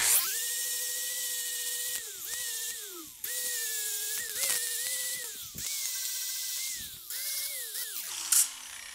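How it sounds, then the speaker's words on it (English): An angle grinder grinds welds flush on a steel frame with a high, steady whine that dips under load as it bears down. Several grinding passes are separated by short breaks, close and loud. "So just get your disc parallel to whatever surface you want and grind away."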